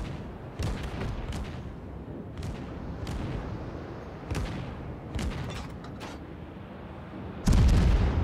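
Naval guns fire from a Mogami cruiser in a video game, a string of heavy booming salvos spaced irregularly over steady battle rumble, ending in a louder, close blast.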